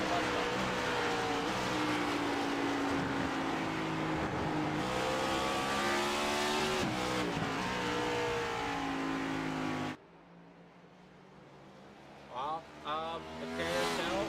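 Race cars circle Watkins Glen in a racing sim, a continuous loud engine drone rising and falling in pitch through gear changes for about ten seconds, then cutting to quieter background with brief bursts.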